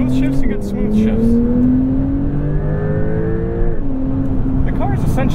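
A 2021 Porsche 911 Turbo S accelerates hard, its engine note climbing steadily through the gears with sharp drops at each quick shift, loud and close throughout.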